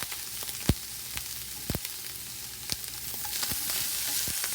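Peppers and garlic frying in a pan, a soft steady sizzle with scattered sharp crackles and pops, close and with no talk.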